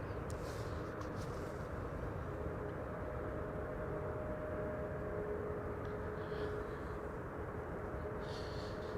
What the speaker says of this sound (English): Embraer 190 arriving from Prague on the right. A320neo KLM Malta arriving from Malta on the left.